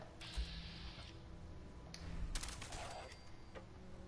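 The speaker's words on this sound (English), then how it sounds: "It's funny that actually gives multiple gunshot sounds for one bullet" Rapid gunfire from the video game Fallout 4, a short burst of several overlapping shots for one bullet, over a steady background of game ambience and mechanical clatter.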